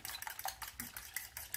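A utensil beats a butter and chocolate brownie mixture in a bowl, making quick, steady scraping and clicking strokes at close range, soft and continuous with no voices.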